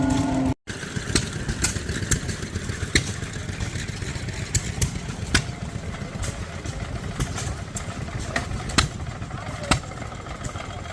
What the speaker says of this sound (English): Got an old Excelsior motorcycle bike